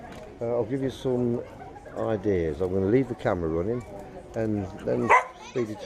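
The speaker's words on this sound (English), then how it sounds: "That's a dog, obviously." A dog barks and yips in short bursts at a busy outdoor waterside spot, sounding close and agitated, mixed in with someone talking over it.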